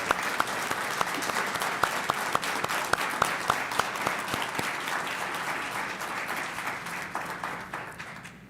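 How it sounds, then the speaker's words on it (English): Sustained audience applause for engineering graduates at a 2021 commencement ceremony, dense steady clapping with a few sharp individual claps standing out early, holding strong and then thinning slightly toward the end. "One huge round of applause."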